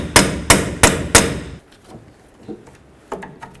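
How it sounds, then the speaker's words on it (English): A hammer striking a punch to free a vehicle axle from its bearing: four loud, sharp metallic blows in even rhythm, followed by quieter clinks and handling noises. "Use a punch and a hammer and break your axle free from the bearing."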